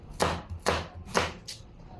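Knife cutting ingredients into small pieces for chicken arroz caldo: four close, distinct chops on a board at an even, unhurried pace, the last one lighter, with no voices.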